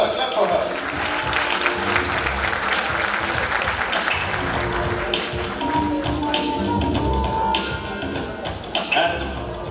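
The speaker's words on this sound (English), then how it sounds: "Clap for her, clap for her" Audience applause at the KZN Youth Business Awards 2022 ceremony in Durban, a steady wash of many hands clapping that fills the room for about ten seconds, with some voices mixed in.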